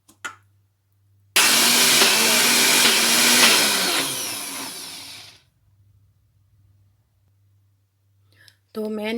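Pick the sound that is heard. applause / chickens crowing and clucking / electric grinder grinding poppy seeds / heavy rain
electric grinder grinding poppy seeds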